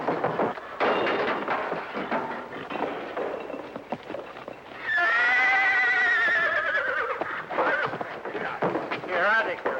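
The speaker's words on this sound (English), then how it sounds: "Whose horse is this?" A horse, a mare, whinnies loudly and long in a drawn-out neigh midway through, amid scuffling and other noise, with a shorter whinny at the end.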